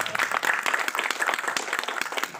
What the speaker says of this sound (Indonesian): Boleh tepuk tangan untuk yang ini.